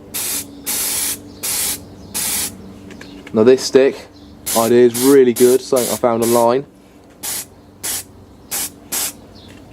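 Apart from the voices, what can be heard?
spray can undercoating miniatures in spray booth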